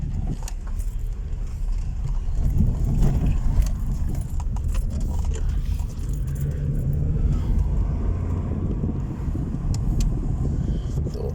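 Inside a moving car, a steady low road rumble and engine drone with faint rattles, continuous and close, without talk.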